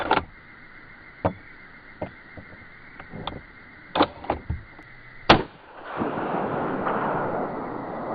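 Sharp, loud cracks from a Mossberg 817 bolt action rifle in .17 HMR fired at a golf ball 100 yards away, several isolated reports spaced seconds apart, then a broad rushing noise.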